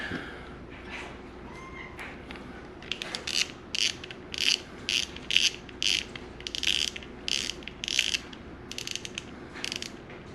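A Penn Fierce II surf reel has its top worked off, producing bursts of rapid mechanical ratcheting clicks in short rhythmic runs, close and clear over a quiet background hum.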